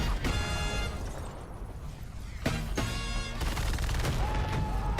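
Gunfire in the Call of Duty: Vanguard multiplayer reveal trailer, a World War II video game: dense bursts of rapid shots and crashing impacts in clusters, loud and close, with a brief lull between volleys.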